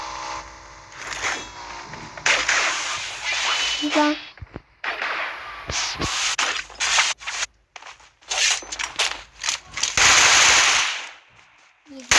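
Rapid bursts of gunfire in a shooting video game, sharp cracks and short automatic volleys broken by brief gaps, loud and close, with a voice talking over parts of the action.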